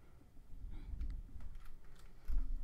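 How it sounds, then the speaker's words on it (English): Computer keyboard keys being typed while setting up a virtual machine for a pfSense install on Proxmox, a short run of soft, quiet clicks over low background hum. "Why isn't my keyboard working?"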